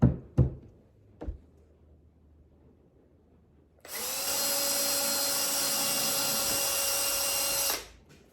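A couple of sharp knocks on wood sound first. After a quiet pause, a power drill drives screws into wooden strips for flag building, a steady close whirring whine lasting several seconds before it stops.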